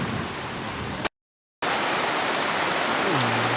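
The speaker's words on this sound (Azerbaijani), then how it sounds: "Onun üçün gözləyəcəm burada bu yağış kəssin." Heavy rain pours steadily in Chiang Mai, Thailand, a dense, even hiss interrupted by one brief gap of silence.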